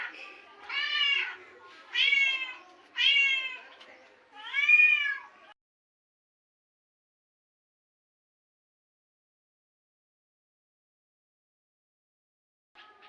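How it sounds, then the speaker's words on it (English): Kittens meowing loudly from a recording played back on a device: four drawn-out, high-pitched cries in quick succession, then a long silence and the start of another cry at the very end. "some baby cats are crying on this video, and I played it loudly"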